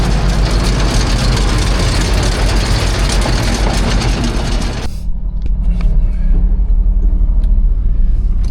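Repaired farm machinery, a destoner hitched to a Magnum tractor, runs with a loud, close engine roar and heavy low rumble. Partway through, the brighter mechanical clatter drops away and the deep engine drone continues.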